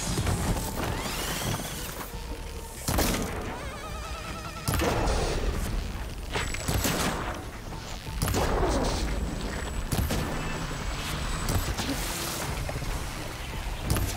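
Gunfire in Horizon Forbidden West, with repeated heavy impacts and blasts recurring every second or two over a dense, busy backdrop of combat noise.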